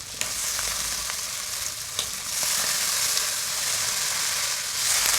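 Taro stolons and potatoes fry with spices in hilsa fish oil in a pan, a loud, continuous, close sizzle that swells slightly as the pieces are stirred.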